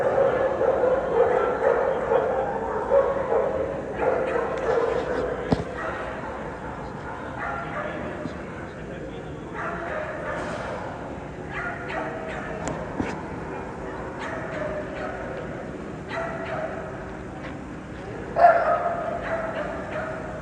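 Pit bulls barking and yipping at a dog show, scattered barks at middling distance over a busy crowd murmur, with one sharper bark near the end.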